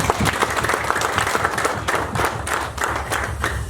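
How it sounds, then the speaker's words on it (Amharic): Wedding guests at a church ceremony applaud the newly married couple with a burst of lively, dense clapping from a nearby crowd that continues steadily to the end. "አጨብጭቡላቸው።"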